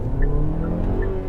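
A Chery Tiggo 8 Pro SUV pulls away hard from a standstill with its tires spinning. The steady engine roar rises in pitch, with faint brief squeals over it, close and loud throughout.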